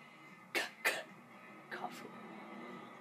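Two sharp coughs close together, then a pair of fainter coughs about a second later, close to the listener against a quiet background, in a video game.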